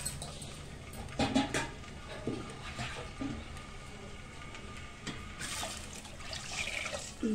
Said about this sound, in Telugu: ఇందులో ఇంకొన్ని వాటర్ వేసేసుకుందాం,